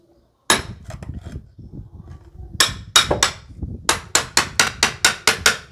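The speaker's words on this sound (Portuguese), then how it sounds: "você vai encaixar a talhadeira aqui, ó, no cantinho, na lateral onde tem o prego" A steel chisel is hammered into wooden pillar formwork next to a nail, giving sharp, close knocks: a few scattered blows first, then a steady run of about eight evenly paced strikes.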